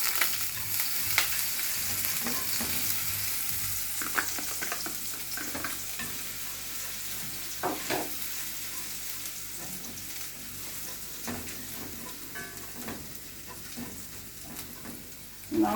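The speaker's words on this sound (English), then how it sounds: "I already have my chopped onions and garlic, which I'll be sauteing" Chopped onions and garlic sauté in a pan, a continuous soft sizzle with frequent scraping and stirring knocks from a utensil, fairly close and steady for the whole stretch.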